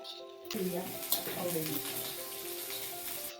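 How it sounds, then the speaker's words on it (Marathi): Vegetables, including square-cut onion pieces, sizzle and crackle in a pan over a high flame for paneer chilli, a loud steady frying hiss with stirring scrapes, close up. "हे सगळं आपण हाय फ्लेमवरती अगदी दोन मिनटं परतून घेतोय"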